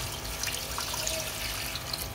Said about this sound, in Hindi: तो इसमें अब हम तकरीबन 1 जग पानी का डाल देंगे।